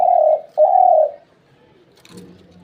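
A dove, one of two doves in a fight, gives two loud, close coos in quick succession, then falls quiet. A softer, lower call follows near the end.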